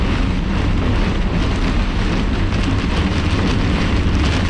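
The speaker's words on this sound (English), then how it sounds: "the gusts are really against the car. It's also because the rain's totally being wind-driven into it" Wind-driven rain and strong gusts batter a car during a severe squall line on a storm chase, making a loud, unbroken roar of rain and buffeting that fills the whole stretch with no voices.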